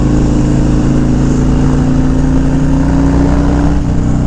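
Harley-Davidson Street Glide motorcycle riding at a steady cruise, a loud continuous low engine rumble mixed with road and wind noise, no talk.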